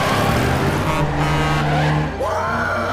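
Truck engine roaring steadily up close, with a brief tire squeal and a dip in the engine note near the end, part of a convoy in a chase.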